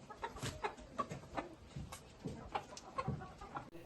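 A tall, colorful chicken clucks repeatedly in short, irregular bursts close by, with no one speaking.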